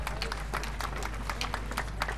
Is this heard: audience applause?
yes